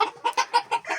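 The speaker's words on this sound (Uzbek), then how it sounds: "Ko'pchilik mendan so'rayapti dekorativ tovuq." Decorative chickens cluck close by in a quick series of about six short, sharp calls at a steady rhythm, with no talk over them.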